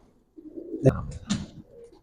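A female Giribaz pigeon coos close by, giving two brief throaty coos in quick succession.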